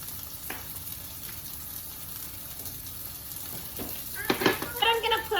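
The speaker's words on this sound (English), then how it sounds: "So let's get frying them." Sizzling and crackling of food frying in a pan, with a few clattering stirs and scrapes growing louder toward the end.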